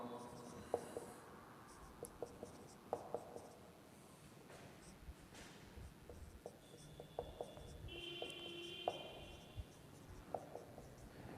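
A maths question being written out by hand gives faint, scratchy strokes and light taps in an irregular rhythm, close but quiet over a soft room hum.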